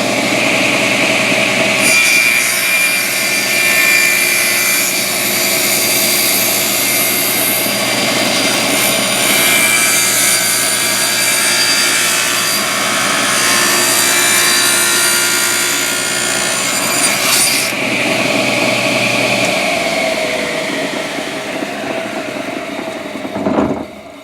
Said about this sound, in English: Bandsaw, do a little zing zing, and notch it out